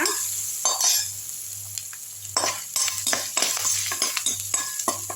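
Dal, green chili and garlic being sautéed in a pan, with steady oil sizzle and repeated scraping, clinking stirs of a metal spoon close by, no talking.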